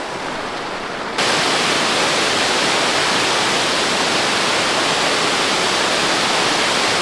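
Rushing water from a waterfall on Kilimanjaro's Lemosho route. After a brief quieter moment it opens into a loud, steady, broadband roar, close and continuous, with no voices.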